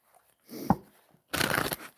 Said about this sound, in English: So you just shuffle the deck until you feel you're ready.